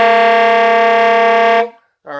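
A saxophone multiphonic played with the low C fingering and the first finger raised: one steady, loud, buzzing chord of stacked tones held for about a second and a half, then cut off, with a person starting to speak right after.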